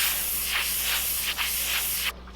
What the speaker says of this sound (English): Come out of the airbrush, please.